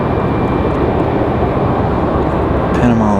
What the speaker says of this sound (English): Again, Copa with the Max 9,